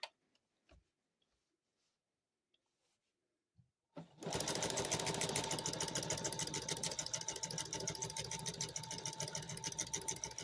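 Sewing machine with a walking foot quilting stripes in purple thread: a few faint clicks in near-silence, then the motor starts and runs steadily with a rapid, even stitching rhythm.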